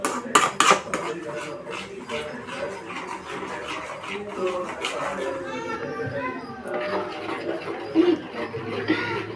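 A spoon stirs a masala-coated okra curry in a pan, giving clinks and scrapes that are sharpest at the start, while a voice keeps talking over the cooking.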